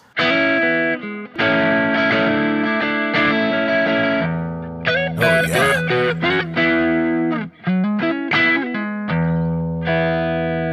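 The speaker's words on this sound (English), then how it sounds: "it's what you want a Strat to sound like" A Strat-style electric guitar run through effects plays a sustained, chorused phrase with distorted chords and single-note runs, loud and close, ending on held notes. A voice speaks a brief word partway through.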